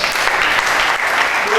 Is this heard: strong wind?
no